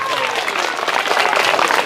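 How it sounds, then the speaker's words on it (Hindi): Students at a government school burst into loud, steady clapping as a group, with voices mixed in through the short burst. "इसके लिए जोरदार तालियां।"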